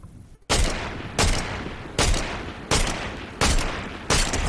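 Gunfire from a weapon in Fortnite Chapter 5 Season 2: six loud, sharp shots at an even pace, roughly two-thirds of a second apart, each with a short decaying tail after a brief quiet start.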